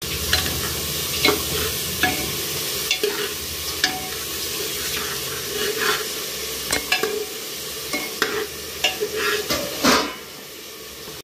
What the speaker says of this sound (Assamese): এইফালে লাহে লাহে আমাৰ মাংস হৈছে মানে ভাজা হৈছে